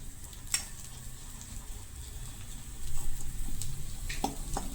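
Ingredients for aloo suran fry in hot oil, a steady close sizzle that swells slightly partway through, with a few faint ticks and clinks and no talk.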